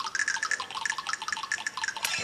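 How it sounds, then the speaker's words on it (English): Water dripping sound effects from the physics puzzle game Enigmo, a rapid series of bright, close drips and plinks repeating in quick succession, loud and alone. "the sound effects, they do get pretty repetitive with just that water noise constantly going off"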